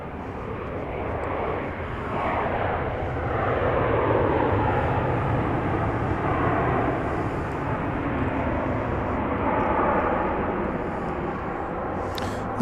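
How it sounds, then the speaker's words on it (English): Southwest Airlines Boeing 737 MAX 8 arriving at Dallas Love Field from St. Louis: a steady, loud jet engine roar sustained throughout, swelling slightly in the middle, heard outdoors with no talking. "Southwest Airlines, arriving from St. Louis on a MAX 8."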